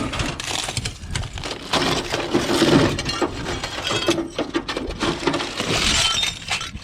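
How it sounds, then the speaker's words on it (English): Broken glass clinks and crunches in the wreckage of a burnt, stolen truck, a dense close-up jumble of shattering and scraping that continues without pause as debris is stirred. "Oh man, this is glass."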